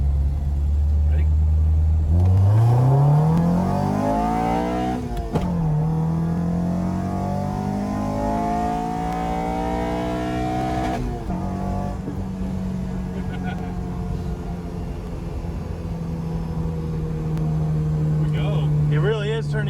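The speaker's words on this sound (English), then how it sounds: "He really is turning into a Honda guy hitting rev limiter" A Honda Civic with a K24 engine revs hard, its pitch climbing steeply and then holding high near the rev limiter, loud and close inside the car, with speech mixed in.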